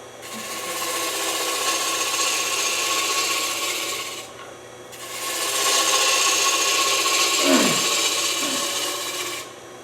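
Dry wood spins on a lathe as a tool tapers it, giving a steady close rasping, scraping whir in two long passes with a short pause between.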